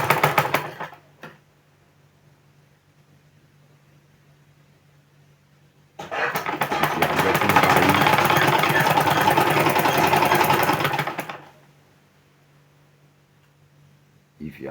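A sewing machine stitches a zipper into a pair of trousers, running in one steady, close, rapid whirring burst of about five seconds, with brief mechanical clicks before and after it and quiet pauses between.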